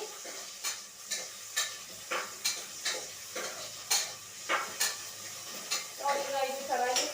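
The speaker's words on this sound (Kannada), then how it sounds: "ಫ್ರೈ ಆಗ್ತಾ ಇದೆ" Tomatoes fry in a pan for mutton sambar, a steady sizzle under repeated rhythmic scraping strokes of a spoon stirring against the pan, close and clear with no talking.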